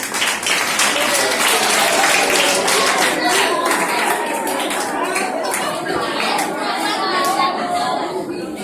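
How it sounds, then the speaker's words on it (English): An audience at a press club event breaks into sustained, dense applause, loud and close, with chatter and voices mixed in throughout. "A round of applause for you, please."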